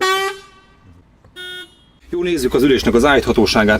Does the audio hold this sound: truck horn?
yes